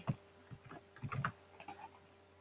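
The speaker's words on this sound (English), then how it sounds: "Now type Scala version." Quick bursts of keystrokes on a computer keyboard as a command is typed, with short pauses between clusters, close and fairly quiet with no talking.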